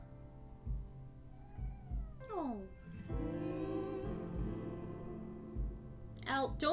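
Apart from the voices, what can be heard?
pet cat meowing sadly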